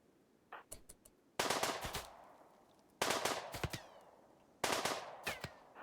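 Machine pistol gunfire in the RimWorld video game, in three loud rapid bursts after a few scattered single shots, each burst fading out with a ringing tail.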